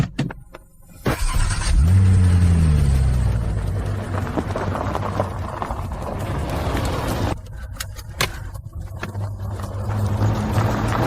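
A stolen car driving off, its engine revving up sharply after a brief quiet moment, then a sustained rumbling drive with rising and falling engine tone, loud and close, cut by short gaps near the end.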